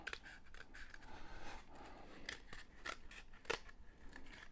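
Scissors snip through a cardboard tube while a troll puppet is being cut out for a kids' craft, giving a series of close, crisp cuts in an uneven rhythm with no talking.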